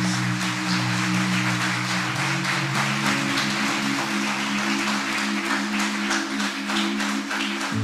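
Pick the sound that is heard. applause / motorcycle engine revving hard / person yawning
applause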